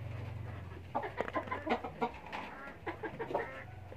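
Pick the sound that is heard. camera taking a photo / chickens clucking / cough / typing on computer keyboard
chickens clucking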